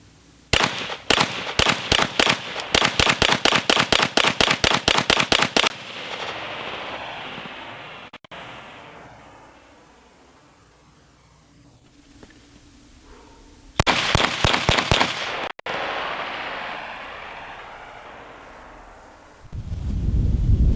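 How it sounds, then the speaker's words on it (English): An Agency Arms Field Edition Glock 17 pistol fired rapidly in two fast strings of sharp, loud shots, each followed by a long quiet pause, with a low rumble at the end. "it's essentially just running the gun hard, running as many magazines as you can, as fast as you can"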